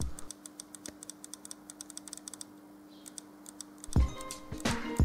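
Rapid clicking of the electronic trigger on a Krytac KRISS Vector airsoft gun with an 8mm gearbox and integrated FET, a steady run of light close clicks followed by a couple of louder mechanical clunks at the end.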